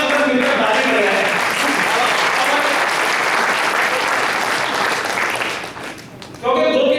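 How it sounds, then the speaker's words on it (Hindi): A large audience at a Hindi comedy poetry gathering claps together in loud, dense, sustained applause that fades out near the end, after which a voice briefly comes in. "आनंद आपको तभी आएगा एक बार पूरा सदन मिलकर ताली कर रहा है।"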